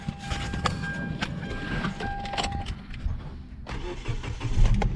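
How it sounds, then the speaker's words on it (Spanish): A vehicle's engine cranks and starts up close by. Light clicks and a jingle of keys come first, then the motor catches and idles on, with no speech. "vamos aquí y vamos a arrancar el vehículo"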